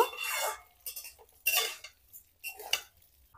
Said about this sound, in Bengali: সিমুইটা ঘিয়ের সাথে একটু নেড়ে নেব।